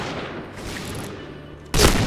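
Gunfire in the shooting video game Point Blank: a steady rattle of shots under game ambience, ending in one loud, sharp close-range blast.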